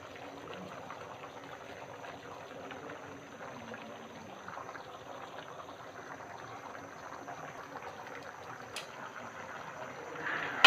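Kabuli chana pulao, rice with boiled chickpeas, cooking in a pot, a faint steady simmering hiss and bubble at low volume throughout, with a sharp knock at the very end.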